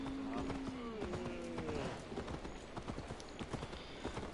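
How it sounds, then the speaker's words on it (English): Horse hooves clatter in a steady clip-clop rhythm in the video game Assassin's Creed Valhalla, following a brief neigh, with the galloping close and continuous under the game's ambient sound. "Let's get a horse."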